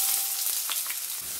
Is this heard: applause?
no